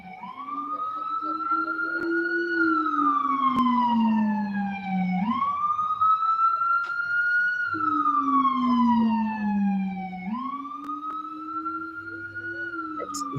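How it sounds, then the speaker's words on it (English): A wailing emergency siren rises and falls in long, slow cycles, steady and fairly loud, with faint traffic noise underneath. "I always worry when I hear a siren"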